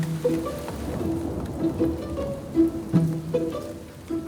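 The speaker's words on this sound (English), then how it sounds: "With the rain pouring down in West Yorkshire" Heavy rain pours down at a West Yorkshire farm, a dense steady wash with occasional knocks and thumps nearby.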